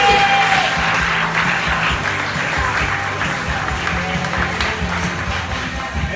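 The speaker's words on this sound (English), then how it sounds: "Let's make a nice warm round of applause for Justin Luke," An audience at a stand-up comedy show claps and cheers for a comedian, a dense, loud, sustained wash of applause with scattered whoops, no speech.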